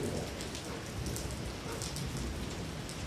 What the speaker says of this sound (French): C'est de la grêle mélangée à de la pluie quoi.